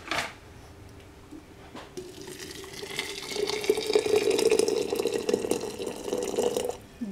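Boiled water poured for golden peony tea, a steady liquid stream that builds gradually, close and alone with no voices.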